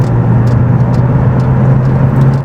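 A manual car's engine drones steadily and loudly at a sustained rev, a continuous mid-pitched hum with no breaks and no voices.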